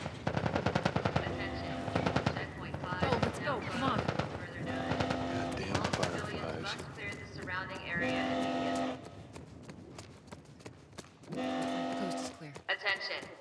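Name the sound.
gunfire in the video game The Last of Us Part I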